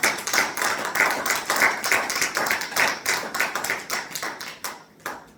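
Church congregation clapping together in a steady rhythmic beat to acclaim the Lord, bright sharp claps repeating evenly for several seconds before thinning out near the end, with no voices over it.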